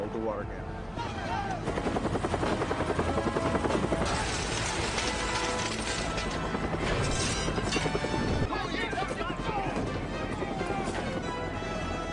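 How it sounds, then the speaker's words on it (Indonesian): A helicopter being disabled in a prison film scene, heard as a loud continuous rotor roar mixed with mechanical clanks, crashes and a dense dramatic soundtrack, with voices over it. "Misi mereka selanjutnya adalah melumpuhkan helikopter."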